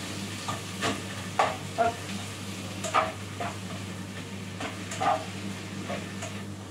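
Tomatoes and onions fry in a pan, a gentle sizzle beneath wooden-spoon scrapes and knocks as the mixture is stirred, with a low steady hum underneath; close, one brief spoken word.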